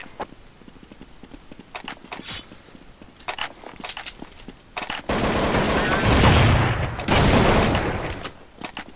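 Counter-Strike 1.6 gunfire rings out in sharp single shots and short bursts. A dense, loud roar of rapid fire and noise fills the final seconds.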